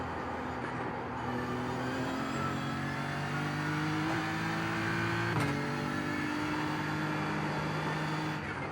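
A BMW M4 GT3 racing engine in a racing game at the Nürburgring Nordschleife, a steady loud drone that climbs in pitch as it revs, broken by sharp shift blips around the middle, with no talk over it.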